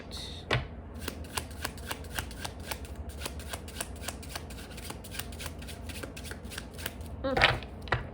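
A deck of tarot cards is shuffled close up in a steady run of quick flicking riffles for several seconds, ending with a louder knock as the deck is squared.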